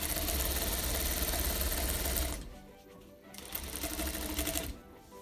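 A sewing machine stitches a fabric face mask, its loud steady motor hum and needle clatter running fast, then slowing and dropping away briefly before starting up again.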